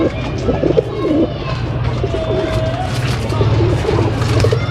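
Teddy pigeons coo on a rooftop loft, soft repeated throaty coos close by over a steady low background hum.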